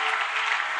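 A church congregation breaks into brisk, dense clapping, a brief full burst of many hands at once with no voices standing out.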